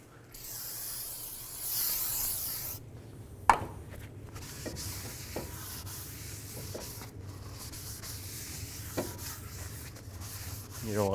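Someone cleans the wheel hub surface of a 2003-2007 Nissan Murano during a hub and bearing replacement: a soft spray hiss at first, then quiet rubbing and wiping with occasional small clicks and taps, faint and close.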